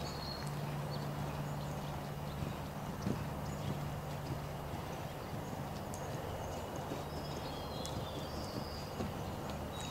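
Hooves of a horse at a working canter in a riding lesson arena, a faint steady rhythmic clip-clop beneath a low ambient hiss that continues throughout.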